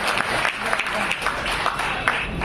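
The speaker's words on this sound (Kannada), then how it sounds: "ಸರಿ ಅನ್ಸಿದ್ರೆ ಒಂದು ಚಪ್ಪಾಳೆಗಳು." Audience at a Kannada Rajyotsava celebration in a church hall breaks into steady, dense applause, a close wash of many hands clapping together without pause.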